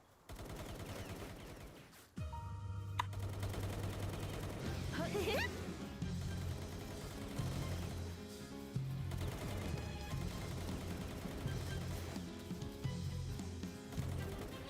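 Gunfire from weapons in the game Palworld, bursts of rapid shots running through most of the stretch over game music and effects, loud and close, with a brief quiet gap near the start.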